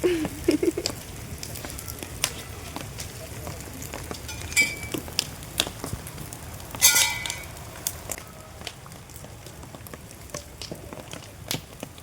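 Rain falls through an outdoor Bhogi bonfire celebration as soft scattered patter, with crackling pops and clinks rising above it. A brief loud burst comes near the middle, and faint voices sound at the start.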